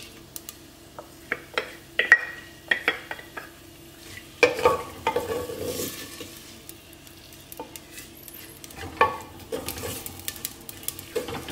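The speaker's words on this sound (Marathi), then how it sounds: "आतां न्हू आमी ह्या कांद्याक फोंड मारया" Onions fry in oil in a pan for a Goan prawn and okra curry, a soft sizzle broken by repeated sharp clinks and scrapes of a spoon stirring against the metal, close and alone.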